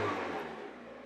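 A 1.6-litre car engine revs briefly with a throaty, low rumble that fades out within a second, close by.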